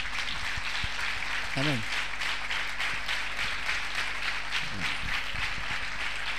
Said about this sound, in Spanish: con un fuerte aplauso los vamos a recibir